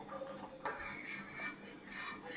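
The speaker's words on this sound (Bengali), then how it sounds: "এটা আমরা এই দুধের মধ্যে আমরা মিক্স করে দিচ্ছি।" A utensil stirs custard mixture into milk in a pot, giving soft scraping and light metallic clinks against the pot, faint and close, with no talking.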